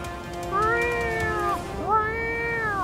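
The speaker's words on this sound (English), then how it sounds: "a giant cat is stuck in a tree with no food or water" A large cat stuck up in a tree gives two long, drawn-out meows, loud and close, with a brief pause between them and nothing else competing.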